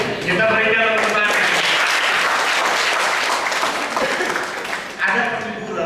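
An audience applauds loudly in a dense, sustained burst of clapping, with voices, singing or music audible at the start and end.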